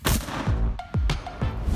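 Gunfire on the Ukrainian front line during the war, caught as several loud, heavy blasts in quick succession, each with a booming low rumble that lingers briefly between the sharp cracks.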